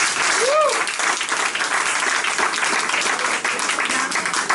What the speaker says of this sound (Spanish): un aplauso para Padre Samuel